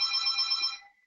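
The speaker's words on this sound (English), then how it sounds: "Oh, the phone." A phone ringtone sounds once, a bright, close electronic ring lasting under a second before fading out, with no talking over it.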